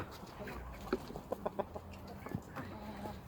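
Chickens cluck softly in short, scattered bursts close by, with a low background murmur throughout.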